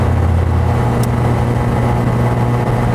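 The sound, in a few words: car engine revving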